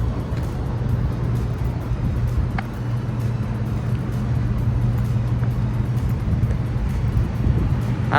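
Steady low rumble of passing traffic along a highway, a continuous droning wash of vehicle engines and tyres with no one speaking, holding an even level throughout.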